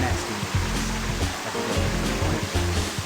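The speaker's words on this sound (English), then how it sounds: "I like how we're just watching Sonic take a shower." Steady rushing shower water splashes continuously over Sonic in the Sonic Adventure video game, a dense, even hiss with low rhythmic game tones pulsing underneath and no talking.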